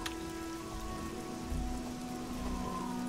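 Steady rain falling at night in Elder Scrolls Oblivion, a soft continuous patter of drops on surfaces with a faint low hum beneath, heard alone without talk.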